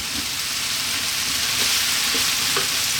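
Garlic ginger paste sizzles loudly in a hot frying pan for a pumpkin coconut curry, a dense continuous hiss with occasional stirring scrapes, close and steady.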